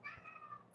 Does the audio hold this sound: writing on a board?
no